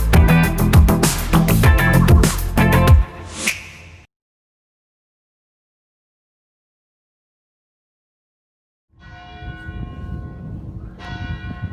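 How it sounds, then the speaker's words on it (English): A church bell in Faro in Portugal's Algarve rings in loud, close, repeated resonant strokes for about three seconds, then fades out. After a long silence, a second burst of ringing strikes follows near the end. "The bell tolls."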